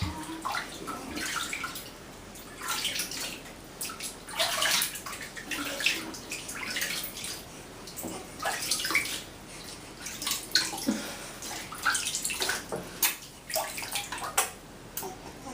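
Warm bath water sloshes and splashes in irregular bursts while a baby is bathed, close and moderately loud, with brief pauses between movements and no speech.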